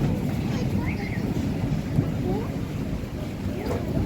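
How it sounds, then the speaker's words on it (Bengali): Storm wind blowing hard at a village house, a steady roar with gusts buffeting close to the microphone, mixed with a faint background voice. "ঝড় শুরু হয়েছে"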